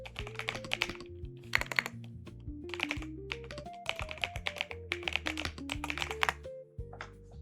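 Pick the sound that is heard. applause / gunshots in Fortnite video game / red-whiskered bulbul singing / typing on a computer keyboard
typing on a computer keyboard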